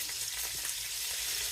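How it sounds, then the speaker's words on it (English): Tiny miniature hamburger patties fry in a pan for hamburger soup, giving a steady close sizzle with soft crackling and no talk. "I formed little miniature hamburgers, little tiny, and I'm frying them up"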